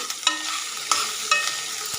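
A spoon stirs beans and fenugreek curry with turmeric in a pan, giving a steady scraping sizzle with a few sharper clinks of the utensil against the pan. It is close and alone, with no voices.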